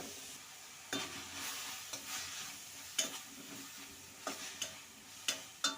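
Grated carrot frying in ghee for carrot halwa, a steady soft sizzle with periodic scraping stir strokes of a spoon against the pan, about eight sharp clicks spread across the stretch, close and moderately quiet.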